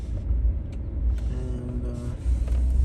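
Cars drive past in North Miami, a close, steady low rumble of road traffic with an engine hum rising briefly midway.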